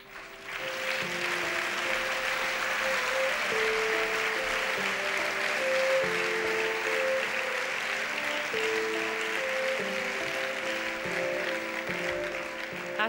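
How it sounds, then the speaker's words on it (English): A big round of audience applause greeting the jury at a film festival closing gala and awards ceremony, dense sustained clapping from a large crowd over music that plays underneath for the full length. "Let's receive the jury for this year with a big round of applause."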